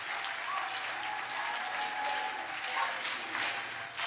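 Members of a parliamentary chamber applaud in a dense, continuous wash of clapping from many hands, loud and steady throughout with no break.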